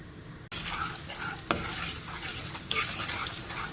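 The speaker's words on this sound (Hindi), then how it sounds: "लहसुन अदरक जो मैंने कूटा था वो डालूँगी अच्छे तरीके से। इसको हम फ्राई कर लेंगे।" Crushed garlic and ginger fry in hot oil in a wok, giving a steady close sizzle. A few sharp clinks of a utensil against the pan cut through it.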